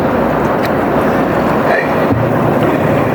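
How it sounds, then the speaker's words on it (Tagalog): Strong water current rushing loudly past a fishing spot, a constant broadband roar with wind buffeting the microphone, steady and close throughout. "Yang maingay na yan, agos yan."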